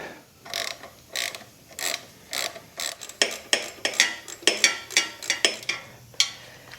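A ratchet turning a 14 mm socket on a 1994 Honda gives about a dozen close, crisp bursts of clicking in a steady back-and-forth rhythm. The strokes grow louder and quicker toward the end, with no talking.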